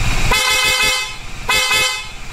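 A Bajaj Dominar 400 motorcycle horn honks twice, each blast about a second long with harmonic tones, close and loud, with a short pause between.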